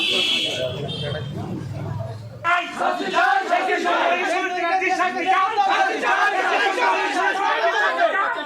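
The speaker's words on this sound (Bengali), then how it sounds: "তারপর তাকে ঘিরে বিজেপি কর্মীদের স্লোগান" A crowd of BJP workers shouts slogans around an arrested youth at a Kolkata street protest, loud rhythmic chanting and overlapping voices after a brief burst of a higher-pitched tone and low rumble at the start.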